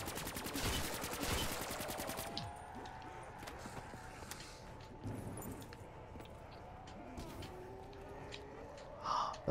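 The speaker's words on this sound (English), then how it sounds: "The black hole gun, look at that." The black hole gun firing in Black Ops 3 Zombies on the Shadows of Evil map, a rapid burst of game fire followed by quieter whooshing effects and scattered game sounds at moderate to low level.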